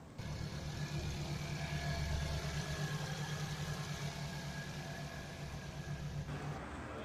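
A Volkswagen Saveiro pickup, 2010 model, idles steadily at a car auction, its engine a low, even rumble that runs close and constant for about seven seconds with no one speaking.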